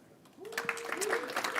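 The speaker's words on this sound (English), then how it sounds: "Clap all the way until they get seated," Conference audience at a Litecoin summit applauding as speakers walk on, a burst of steady clapping with a voice speaking over it.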